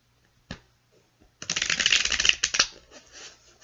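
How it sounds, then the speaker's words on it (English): A deck of tarot cards being shuffled by hand: a single sharp tap, a short pause, then a quick riffling burst of papery flutter that fades into a few soft final slaps, close and clear in a quiet room. "One more shuffle for good measure."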